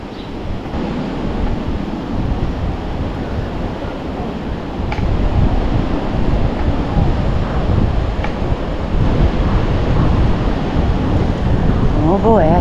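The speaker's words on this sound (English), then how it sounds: "The wind here is quite a bit louder than at Pasigril. I hear a lot of surf roar" Continuous roaring surf at Sunset Beach after Storm Debby mixed with gusty wind buffeting the microphone, a broad, loud wash of noise with no talking.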